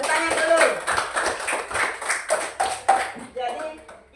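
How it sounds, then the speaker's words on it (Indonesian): Children clapping their hands in a classroom lesson, a dense run of claps spread across the whole moment, mixed with voices. "Jadi, tepuk tangan dulu."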